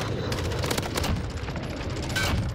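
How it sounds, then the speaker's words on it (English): Grenades go off in Call of Duty: Modern Warfare amid continuous dense battle noise, a steady roar of rapid gunfire and blasts with no clear pauses. "they're chucking nades at me"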